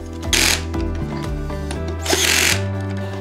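Power tool driving hex screws into an electric scooter's steering damper, two whirring bursts with rising and falling motor pitch, close and loud, separated by a steady hum.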